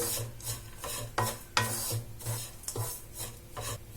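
A spoon scrapes and rasps steadily through ground peanuts and roasted gram in a pan, rhythmic dry rubbing strokes about every half second, close and alone without voices.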